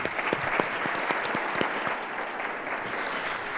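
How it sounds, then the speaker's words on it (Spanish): At a sustainable finance forum, an audience gives the panelists continuous applause, many hands clapping in a steady, full wash with a few sharper claps standing out nearby. "Quisiera que les despidamos con un aplauso."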